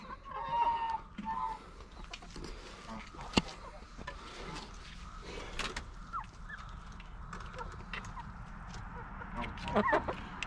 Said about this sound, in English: We have geese over here.